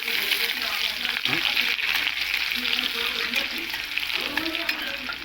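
A small chopped onion frying in oil with black cumin, a dense crackling sizzle that carries throughout, with a few utensil scrapes and clinks, close and moderately loud.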